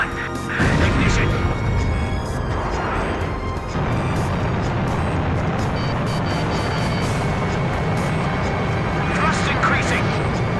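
Rocket engine ignition on the Arcbird in Ace Combat 5: a loud, sustained roar that surges at the start and keeps rumbling steadily to the end, with voices talking faintly over it.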